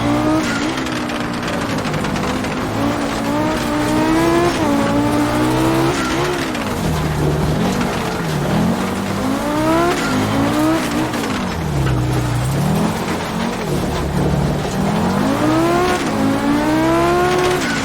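An Audi Group B rally car in a racing video game roars continuously, its engine climbing and dropping through gears with repeated revving sweeps and tyre noise, loud and close throughout.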